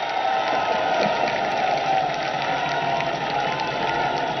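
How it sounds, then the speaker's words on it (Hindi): A large gathering of BJP workers applauds Uttar Pradesh Chief Minister Yogi Adityanath at a 2022 election results address, a dense, steady roar of clapping with cheering mixed in, continuous from start to finish. "एक बार योगी जी की तालियों के गड़गड़ाहट से स्वागत करिए मित्रों।"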